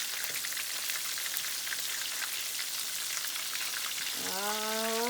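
King crab and lobster fry in a pan with crushed red pepper, giving a steady dense sizzle throughout; near the end a voice hums a rising note over the crackle.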